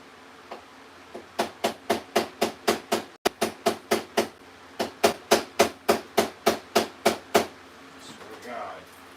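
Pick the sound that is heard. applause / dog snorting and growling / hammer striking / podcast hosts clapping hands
hammer striking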